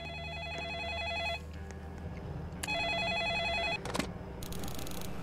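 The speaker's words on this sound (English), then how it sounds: "Oh, the phone again." A telephone rings in two long electronic bursts separated by a short gap, fairly loud against a low steady background hum, with a brief clatter and noise between and after the rings.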